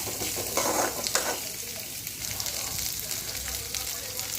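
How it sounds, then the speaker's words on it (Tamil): Onions sizzle in hot oil in a pan for a ladies finger kara kulambu while being stirred, a steady close frying hiss broken by occasional scraping strokes. "போட்டு நல்லா கிண்டி விடுங்க. பாருங்கள், வெங்காயம் நல்லா வணங்கி வருது."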